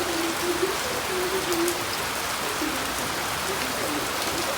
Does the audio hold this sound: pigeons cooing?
no